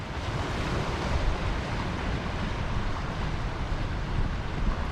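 Sea waves washing onto the shore at Eyemouth, a dense continuous roar of surf mixed with wind noise on the microphone, steady and close with gentle swells in loudness.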